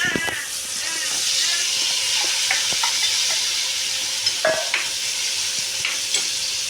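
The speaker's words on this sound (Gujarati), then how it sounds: "આ ટમેટા અને ડુંગળી સુધારાઈ ગયેલા છે, તો આપણે એનો પહેલો વઘાર કરી દઈએ." Chopped tomatoes and onions are tempered in hot oil with asafoetida and turmeric for a brinjal dish, giving a steady, loud sizzle with scattered crackles and stirring scrapes throughout.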